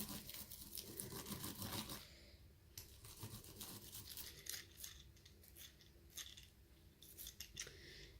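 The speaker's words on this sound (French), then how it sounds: "La petite brosse pour enlever tous les picots" A small brush scrubs leftover bits out of a die-cut paper card, a dense, close bristly scratching in fast strokes with short pauses between bursts, quiet and with no speech.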